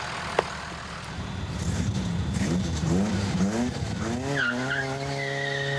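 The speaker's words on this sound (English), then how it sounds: "It's got one wheel peels, folks." A diesel-swapped Torino wagon drag car launching in a one-wheel peel, its engine revving hard as a single tire squeals and skids, rising to a loud, sustained howl near the end.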